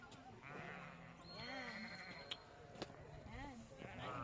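Sheep bleat repeatedly on Qingjing Farm, several wavering calls at moderate distance. People talk over them throughout, and a couple of brief clicks come through.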